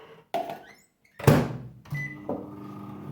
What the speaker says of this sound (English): I'm going to put the butter in the microwave